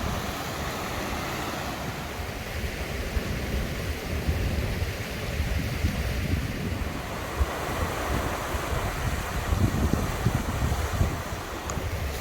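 A river rushes beside a trail in Glen Trool, Galloway, Scotland: a steady broadband wash of flowing water mixed with gusty wind noise, continuous for the whole stretch, with no voices.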